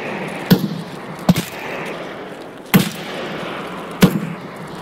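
Four sharp, punchy shots from a caliber 366 VPO-209 AKM smoothbore in the video game Escape from Tarkov ring out at uneven intervals, each a crisp crack with a short decaying tail over quiet background.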